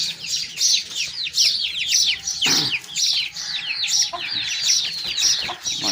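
Chickens at a breeder's yard cluck and chirp in rapid repeated bursts, close and fairly loud, with overlapping calls throughout.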